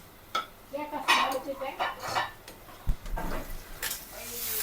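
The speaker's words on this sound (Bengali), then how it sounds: "পেঁয়াজটা লাল লাল হয়ে আসছে এখন দিয়ে দিচ্ছি বড়ি বড়িটা ভেজে নিয়ে লাল লাল করে ভেজে নিয়ে" Onions and bori lentil dumplings fry in a pan with soft sizzling, punctuated by utensil scrapes and clinks against the cookware, close by and uneven in loudness.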